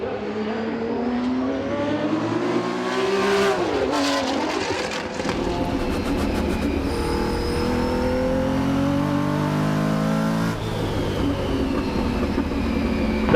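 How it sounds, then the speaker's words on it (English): Vintage race cars, including a 1969 Porsche 917K, roar past on a racing circuit, engines revving and shifting in overlapping waves, loud and near, with no voices. "They just go by and complete lap 6"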